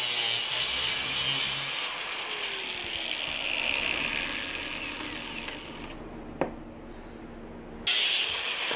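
A part being cut off a Yamaha FZ6 motorcycle during a Givi rack install, a loud continuous high-pitched power-tool whine grinding through the metal, pausing briefly near the end with a sharp click before resuming.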